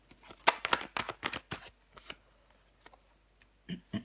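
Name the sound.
tarot card being laid on the deck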